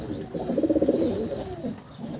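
Pigeons coo nearby in a soft, rhythmic run of throaty pulses, then fade into a quieter murmur over a light background hum.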